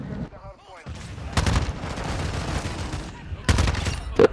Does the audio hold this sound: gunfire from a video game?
yes